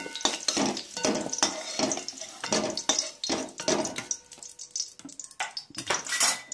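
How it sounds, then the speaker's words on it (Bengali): Fried pumpkin and potato are moved into another pot with a utensil, giving a rhythmic series of close, sharp metal clinks and scrapes against cookware, with faint sizzling between the strikes. "আমি কুমড়ো আলুটাকে এবার তুলে নেব অন্য একটা পাত্রে"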